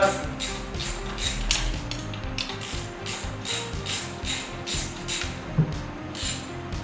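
A ratchet works loose a 12 mm bolt on the exhaust of a 2022 Honda Monkey, giving a long series of quick, close clicking strokes in steady bursts with no talk.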